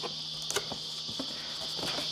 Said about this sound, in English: you're gonna have to battle with the cicadas and